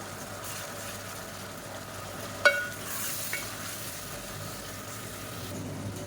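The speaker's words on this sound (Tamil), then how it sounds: "இப்போ நம்ம அரைச்சி வச்சுருக்கிற இஞ்சி பூண்டு பேஸ்ட்டை சேர்த்துக்கலாம். இது நல்லா வதங்கட்டும்." Ginger garlic paste sautéing in a pan for chicken biryani, a soft continuous sizzle with one sharp metallic clink of a utensil partway through and faint stirring, fairly quiet and close, no voices.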